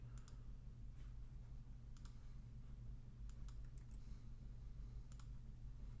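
Faint, sharp mouse clicks at a computer, a few single and paired taps spread over a few seconds against a low steady hum in a quiet room.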